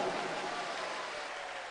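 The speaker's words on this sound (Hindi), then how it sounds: "एक बार जोरदार ताली बजा दीजिए।" An audience at a live Shiv Mahapuran katha gathering bursts into loud, dense applause, a continuous wash of many hands clapping that holds steady and tapers slightly toward the end.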